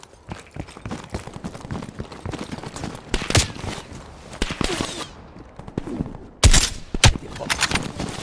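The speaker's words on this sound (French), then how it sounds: "Un sniper! À couvert!" Rapid bursts of gunfire crack through a Call of Duty Black Ops Cold War firefight, with two sharp loud shots standing out among continuous rattling combat noise and scattered impacts.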